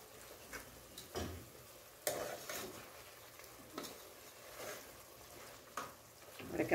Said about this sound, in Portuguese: Vai fritando e pegando os temperos.